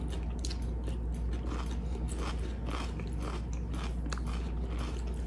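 Crunchy undercooked red onion being bitten and chewed close to the mic, a run of crisp, irregular crunches over a low steady hum.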